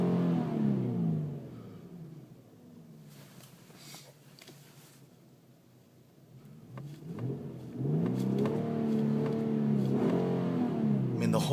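Engine of a 2009 Infiniti G37x revving up and settling back, a deep throaty rise and fall heard twice with a quieter stretch between, close and fairly loud, with faint voices mixed in.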